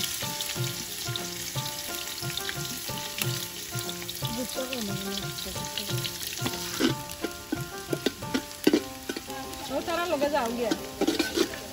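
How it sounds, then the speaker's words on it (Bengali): Chopped onions sizzle and fry in hot oil with whole garam masala and bay leaves in a pot for pulao, a steady crackling hiss with stirring scrapes, under music and occasional voices. "এখন দিলাম পেঁয়াজ কুচি"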